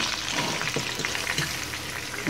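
Hamburger steak patties sizzle steadily in a hot frying pan as they are flipped, a continuous crackling hiss with a few soft thumps from the turning.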